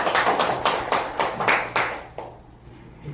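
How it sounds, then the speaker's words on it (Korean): Audience members at a legal seminar clap to welcome a speaker, a short burst of brisk, fairly close applause that quickly thins out and fades to near quiet. "오늘 박수로 청해드리도록 하겠습니다"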